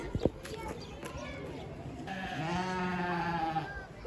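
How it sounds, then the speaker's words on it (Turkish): Sheep bleat in a long, wavering call over rustling background noise, following a few sharp knocks and thuds near the start. "Aa koyunlar meyliyor arkadaşlar."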